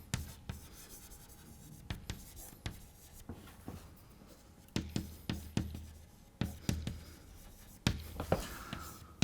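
Chalk or marker strokes on a board during a physics lecture on electrical conduction, a series of sharp taps and short scratchy strokes in irregular bursts, close and fairly quiet, with no talking over them.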